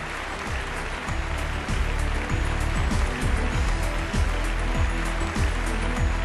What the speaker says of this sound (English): let us put our hands together for NICA, the School of Ideas